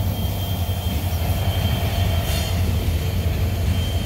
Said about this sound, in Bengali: এটা কোন ট্রেন?